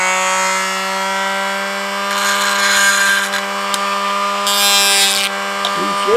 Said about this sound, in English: it's a sander, a little disc sander